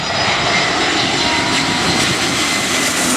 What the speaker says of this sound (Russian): один большой самолет на посадку.